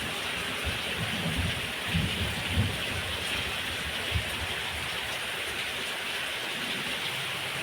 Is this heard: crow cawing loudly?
no